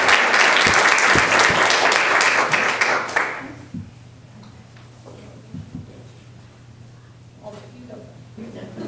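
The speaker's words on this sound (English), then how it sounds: "can we have a round of applause for Santiago Gonzalez?" Audience applause at a school board work session, a loud burst of clapping from the room that lasts about three seconds, then drops away to quiet room sound with scattered soft knocks and movement.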